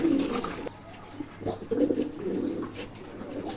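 Pigeons in a home loft give soft, low, rolling coos in a few short bursts, close and fairly quiet, with a faint steady hum underneath.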